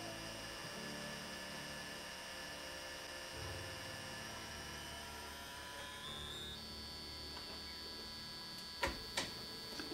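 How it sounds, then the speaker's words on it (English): An N gauge model locomotive runs in analog mode without a DCC chip, giving a thin, steady motor whine and hum that shifts pitch partway through, with a few faint clicks near the end. "the noise that you hear is it running in analog mode."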